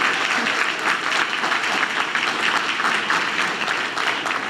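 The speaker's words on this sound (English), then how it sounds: "So can we please give them a round of applause?" A school audience at a board meeting claps steadily for a student folklórico dance group's premiere performance: dense, even applause that holds for several seconds and fills the room without talk.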